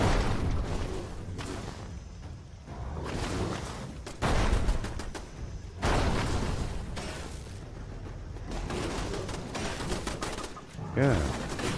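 Turrets firing in the Fallout 76 video game, loud bursts of repeated gunfire and blasts in several dense volleys with short gaps between them, close and dominant throughout.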